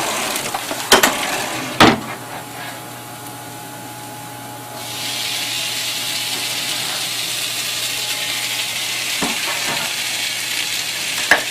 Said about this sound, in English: You stir it up, get it blended really well.